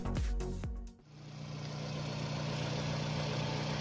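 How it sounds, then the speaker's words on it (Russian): A Toyota engine for a RAV runs at idle with a quiet, smooth, even hum after a short burst of louder noise and a clunk at the start. "Мотор на холостом работает тихо,"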